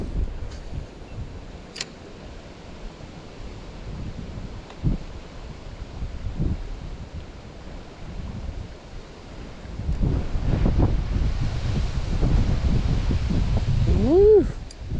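Gusty wind blows along a riverbank during trout fishing on the Goulburn River, a steady breathy rush with rustling that swells louder in the second half, with a brief whistling squeal near the end.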